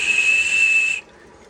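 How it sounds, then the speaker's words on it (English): Breath blown across the hole of a hand-carved jade whistle gives a steady, airy, high-pitched tone held for about a second, then cut off abruptly, close and fairly loud. "hold the whistle up to your lips and blow across the hole,"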